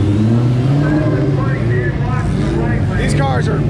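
Ford Mustang Cobra Terminator race cars accelerate close by, a loud sustained engine drone with rising revving tones, and people talk over it.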